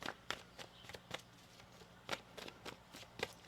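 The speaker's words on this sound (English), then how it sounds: "One more shuffle here." Tarot cards shuffled by hand, giving soft, papery riffling bursts that come in quick irregular clusters over several seconds, fairly quiet and close, with no talking.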